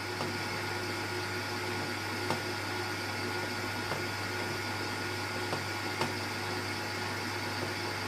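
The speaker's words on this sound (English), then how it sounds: "I've just slowed the mixer down" An electric mixer runs at slow speed through banana tray cake batter as eggs go in, a steady low motor hum with a constant whirr and faint periodic clicks, no talking.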